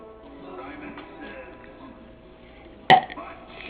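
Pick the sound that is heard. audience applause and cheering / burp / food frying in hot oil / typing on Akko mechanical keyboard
burp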